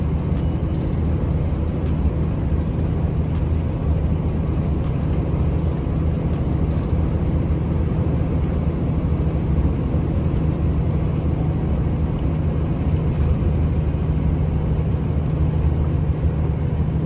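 A truck's diesel engine idles at night at a fuel stop, a constant deep low rumble with a steady hum, heard close from inside the cab with no breaks.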